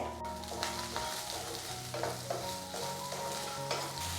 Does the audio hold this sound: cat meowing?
no